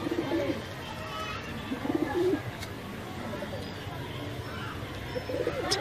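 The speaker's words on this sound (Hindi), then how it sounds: "हमारा बड़ा कबूतर है।" A large breeder pigeon coos in low, repeated bursts near the listener, with people talking over and between the calls.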